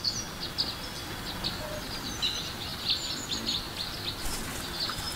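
Cartoon birds chirp in quick, high, light tweets that repeat across a soft, steady background hiss in a children's Teletubbies episode.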